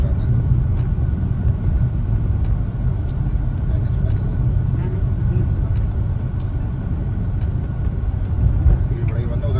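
A Hyundai Creta cruising on a Delhi highway gives off a steady, loud low rumble of engine and road noise from inside the cabin, constant throughout with no breaks.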